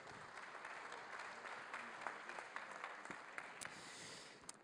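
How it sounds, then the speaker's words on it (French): An audience at a CESE U2P Occitanie gathering claps steadily in a dense, continuous round of applause with a few sharper individual claps standing out, fairly faint and heard from within the room. "On applaudit Joël Courret, s'il vous plaît."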